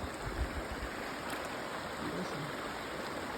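Clear mountain stream water flowing through a forest, a steady soft rushing wash heard close and alone, with no voices.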